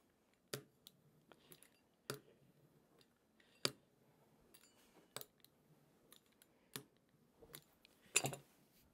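A pizza wheel rolls through all-butter pie crust for an 1859 vinegar pie, giving sparse, quiet clicks and light scraping taps at irregular intervals on a cutting surface, close and alone with no talk.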